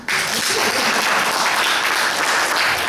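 An audience at a speech contest claps loudly and steadily, a dense, even wash of applause that starts abruptly and carries on throughout without talk.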